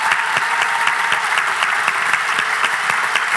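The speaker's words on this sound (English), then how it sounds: "But can we give them a round of applause?" A debate audience at the Cambridge Union gives the guest speakers a round of applause, dense continuous clapping from a packed room, steady and loud throughout.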